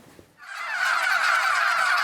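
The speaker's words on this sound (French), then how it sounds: "sur l'exploitation de Rudy Bellan, qui élève des dindes de Noël" Christmas turkeys on a poultry farm in Sarthe, France, a flock's loud gobbling and honking chorus swelling in abruptly after a brief quiet moment and holding steady, close and dense.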